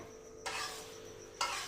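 Chopped pav bhaji vegetables, including cabbage, spinach, aubergine and potato, drop into hot oil in a kadai, giving two sudden bursts of loud sizzling hiss close by, with no talking.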